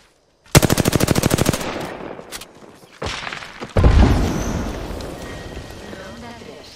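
Gunfire in the battle-royale game Apex Legends: a loud, rapid automatic burst of about a dozen evenly spaced shots, then a pause, a single crack and a booming impact followed by a long rumbling tail, with a voice speaking around it.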